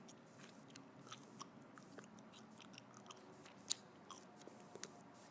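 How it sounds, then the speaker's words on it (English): Natural gum is chewed close up in a quiet room, with soft, wet, sticky mouth clicks and occasional sharper smacks repeating irregularly, alone without talk. "This is like one of these like natural gums. I think that's why it's like melting in my mouth. So it's hard to chew."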